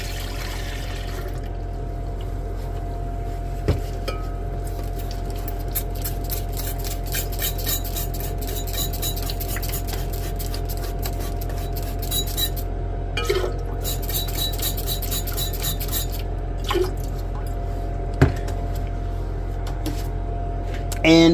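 Liquid from an MLCC refining experiment trickles into a separate glass beaker in a steady, fairly quiet stream, with a few sharp clinks of glass along the way.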